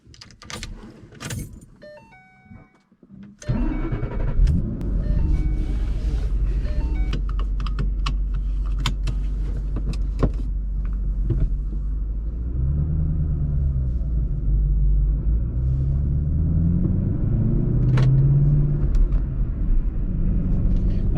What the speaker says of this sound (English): one thing I absolutely love about this car is the exhaust sound